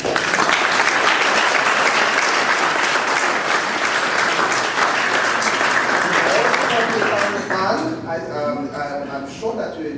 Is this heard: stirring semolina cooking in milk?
no